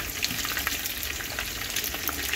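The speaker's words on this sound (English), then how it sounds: "I'm gonna let the other side fry just the same, nice and brown" Pieces of king fish fry in oil in a pan, a dense, close, bubbling sizzle that crackles steadily with no voices.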